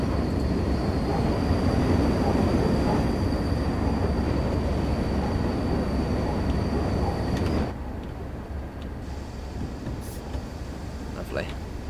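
A train runs on the West Cornwall line in the video game Train Sim World 2, a steady rumbling roll with a thin whine above it that drops to a quieter running noise partway through.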